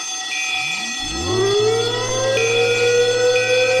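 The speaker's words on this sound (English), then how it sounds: "What with the fire alarm?" A loud fire alarm siren winds up in pitch and settles into a steady, continuous wail, with no voices.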